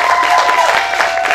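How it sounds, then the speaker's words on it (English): A live audience at a magic show claps and murmurs in a short, loud burst of crowd applause. "You can applaud."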